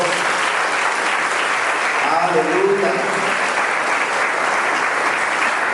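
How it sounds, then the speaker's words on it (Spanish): A church congregation applauds the Lord in a continuous wash of clapping, and a voice calls out briefly over it midway. "Voy a darle un aplauso al Señor"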